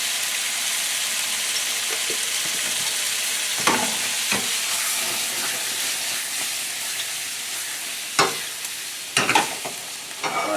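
Curry powder, smoked paprika and garlic powder sizzle steadily in a very hot pan, a continuous bright frying hiss broken by a few sharp pops and clinks, with no voices.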